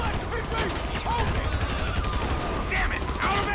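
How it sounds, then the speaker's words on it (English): Rapid gunfire crackles in a GTA 5 street shootout, bursts of shots running steadily throughout with voices and chatter mixed in. "Oh, he's actually firing."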